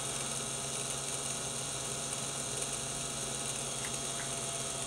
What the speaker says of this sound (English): You can actually hear the motor changing.